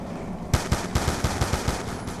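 Bursts of gunfire in Call of Duty Black Ops 2 Zombies, about eight sharp shots in a quick uneven rhythm, loud and close, with no talk over them.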